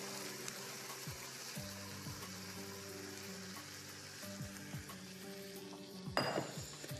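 Rice being added to a pot and stirred in with the other ingredients, heard as a quiet sizzle with soft clinks and scrapes of utensils and a brief louder rush near the end, with no talking.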